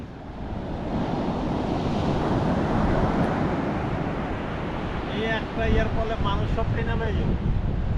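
Atlantic Ocean surf breaks and rolls in at Rockaway Beach, a continuous loud wash of waves, with people talking over it in the final few seconds.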